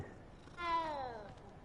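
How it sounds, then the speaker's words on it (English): A cat in the Hogwarts Legacy video game gives one drawn-out, clear meow that rises then falls, heard alone against a faint game background. "Oh, cute cat."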